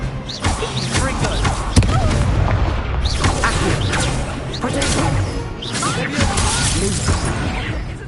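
Fringo ice spell cast during a duel in Hogwarts Legacy, a dense mix of booming impacts, crashes and whooshing effects, with a voice heard amid the combat noise.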